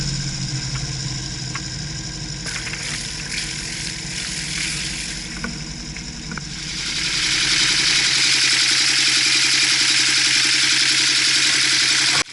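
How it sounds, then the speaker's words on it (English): Boat engines rumble at idle, then a broad rushing hiss of the water inlet swells in and holds steady, loud and continuous to the end. "Engines start up perfectly on the turn of the key"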